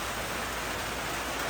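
Steady rain falls during a windy night storm in rural Thailand, a continuous soft hiss of drops with no distinct pattering, moderately quiet and unbroken throughout.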